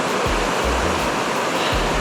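River rapids rush below a waterfall on a wild Lapland river, a loud, continuous roar of white water close by with a few low thumps, and nobody speaks.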